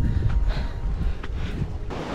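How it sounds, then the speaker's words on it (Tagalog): Strong wind roars and buffets steadily against the microphone on Mt. Guiting-Guiting in the Philippines, a constant low rumble with gusty rushes. "Lakas ng hangin dito. Naririnig nyo ba yun?"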